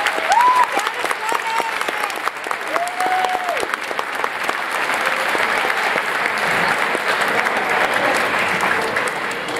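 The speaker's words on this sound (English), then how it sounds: "could you give them another fine round of applause for that?" Audience applause at a high school scholarship awards ceremony fills the whole stretch, a steady loud crowd clapping with a few whistles and cheers rising over it early on.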